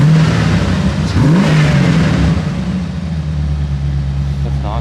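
A tuned hot rod car engine revs from behind the car, a loud, close, throaty roar rising briefly then settling into a steady rumbling idle, with someone talking over it.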